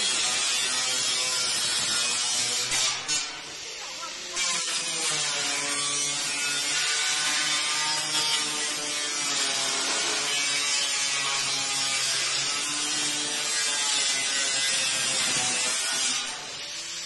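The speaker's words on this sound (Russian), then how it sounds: "Вот, вот он перед болгаркой." Angle grinder cutting on a garage roof, a loud continuous whining drone with steady harmonics running almost unbroken throughout, briefly dipping near the start, with no talk over it.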